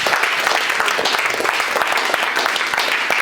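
A church congregation claps and cheers in praise of the Lord, a steady, dense wash of applause that carries on without a break through the whole moment.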